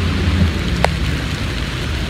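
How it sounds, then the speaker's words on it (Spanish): Heavy rain pours down in a steady, dense roar of drops, loud and unbroken throughout. "Se agarró el aguacero."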